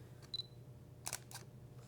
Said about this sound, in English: the focal plane shutter that you hear there